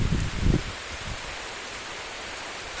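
Heavy rain pours over a village, a steady, dense hiss of drops, close and enveloping, with a few heavier thumps at the start and no voices.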